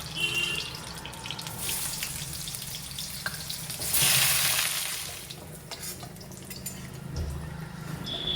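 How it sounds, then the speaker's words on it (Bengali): Bitter gourd slices fry in oil in a wok, giving a steady low sizzle with soft stirring scrapes and a brighter hiss swelling briefly midway, with no talking. "এবার এই তেলেই আমি উচ্ছেগুলো ভালো করে ভেজে নেব।"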